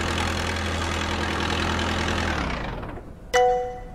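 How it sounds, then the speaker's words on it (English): A forklift engine idles with a steady low rumble in a VR forklift training simulator, then winds down and cuts off, followed by a short bright tone. "Finally, turn off the engine."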